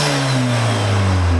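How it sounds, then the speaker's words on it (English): A Vauxhall Astra VXR engine fitted with an induction kit revs up, a loud, close, sustained engine tone rising in pitch, with no talking over it. "let me do a little rev so you can hear what it sounds like"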